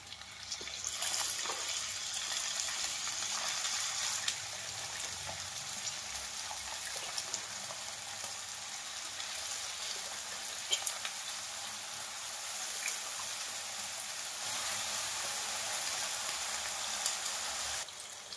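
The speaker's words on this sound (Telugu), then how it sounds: "ముక్కల్ని కొంచెం మనం గరిటతో ఇట్లా కలిపేసుకుని" Brinjal pieces sizzle steadily in a hot pan, with occasional clinks and scrapes of a ladle stirring them, a continuous close frying hiss throughout.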